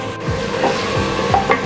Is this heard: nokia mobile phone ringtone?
no